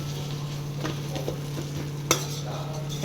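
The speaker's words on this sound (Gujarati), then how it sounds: "મારે સાથે સાથે ફિલ્ટરનો અવાજ આવે છે" A household water filter runs in a home kitchen with a steady low motor hum, while okra is stirred and fried nearby, adding scattered scraping clicks and one sharp clatter.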